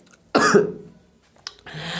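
A man with a cough gives a single sharp, close cough, followed by a short pause, a faint click and the start of a soft breathy sound.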